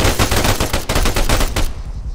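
Rapid automatic gunfire in the video game Arma 3, a loud close burst of evenly spaced shots lasting well over a second before cutting off.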